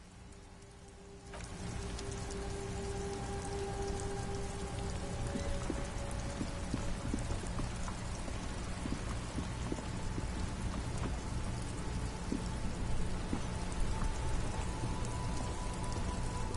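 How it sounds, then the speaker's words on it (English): Steady rain falls in the video game Disco Elysium: a dense, even hiss of drops on surfaces that swells in at the start and continues unbroken, with no talking. "It's raining again."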